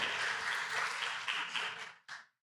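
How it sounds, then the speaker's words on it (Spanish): A church audience claps together in a dense, steady wash of applause that cuts off abruptly, then a brief final flutter of clapping. "Démosles un aplauso por estas ideas que nos han compartido."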